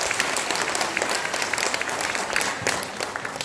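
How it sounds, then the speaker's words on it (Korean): A rally audience in Incheon gives sustained, dense applause for about three and a half seconds, steady and fairly loud, with a faint crowd murmur beneath and no clear speech. "여러분이 박수 치면 스스로에게 치는 거야 힘찬 박수 한번 쳐주세요"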